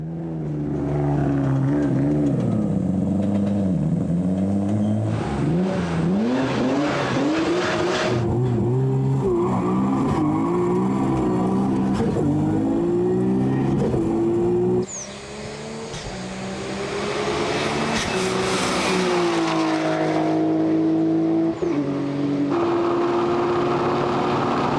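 A tuned 3.2-litre Nissan GT-R on worn tires accelerates hard through repeated gear changes in a 0–300 km/h top speed run, its loud, rising engine roar climbing, dropping at each shift and climbing again.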